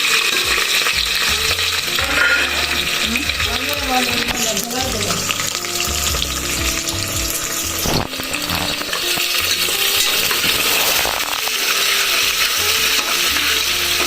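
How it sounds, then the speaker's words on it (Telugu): Onions, green chillies and whole spices such as cloves, star anise and bay leaf sizzle in hot oil for a mutton curry, a loud, steady, close frying hiss with occasional scraping stirs and no speech. "ఇది ఒక 10 to 15 minutes ఇట్లా మొత్తం బ్రౌన్ కలర్ వచ్చేదాకా ఫ్రై చేయాలి"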